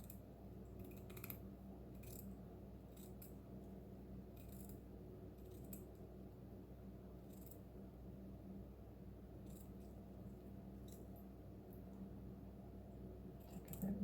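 Fabric scissors snip repeatedly through cloth, cutting material off a sewn pocket, a series of faint, close, crisp cuts at irregular intervals over a low steady background hum.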